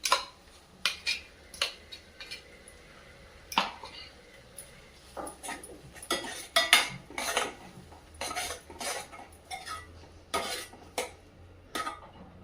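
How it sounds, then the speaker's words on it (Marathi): Spoon scraping and clinking against a pan as ground masala paste and onion are stirred together for a drumstick curry, irregular metallic taps and scrapes close by with quiet pauses between. "हे तयार केलेलं वाटण पण त्यामध्ये टाकून घेऊया म्हणजे चांगला परतला जाईल व्यवस्थित"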